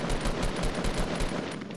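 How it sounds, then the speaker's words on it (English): Rapid automatic gunfire from a video game rattles out as a fast, steady burst of evenly spaced shots, loud and close, with no talking over it. "I'm shooting him."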